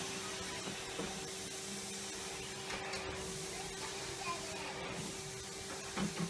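A Henry Hoover vacuum cleaner runs over carpet with a steady broadband whoosh and hum, picking up debris before a carpet cleaning; faint voices murmur underneath and a few brief rattles come near the end.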